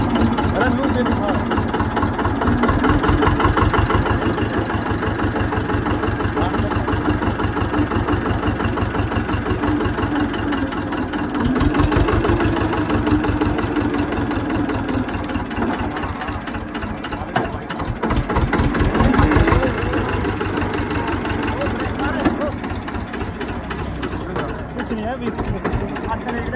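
A tractor engine runs at a steady, loud idle close by, a continuous rhythmic diesel chugging with slight swells, while several people talk over it.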